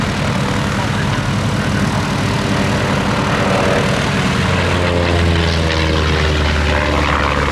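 A Chipmunk propeller aircraft, its original Gipsy Major engine replaced by a Lycoming O-360 and its wooden propeller by a metal one, roars loudly at an airshow, the engine drone rising and shifting in pitch as it passes close by.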